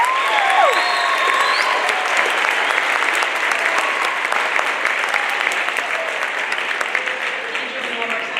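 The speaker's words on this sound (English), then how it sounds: "Can we have one more big round of applause" Audience applause fills a school assembly hall, a dense, steady clapping that stays loud and even throughout, with crowd voices mixed in.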